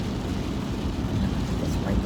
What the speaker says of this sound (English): wiper's on more. It's raining pretty good.